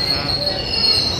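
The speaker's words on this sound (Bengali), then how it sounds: "দেখতে পাচ্ছ ট্রেন চলছে।" The Malda Town Express rolls along at a station platform with its wheels letting out a loud, sustained high-pitched squeal over a rumbling rail drone, close and constant for the whole short stretch.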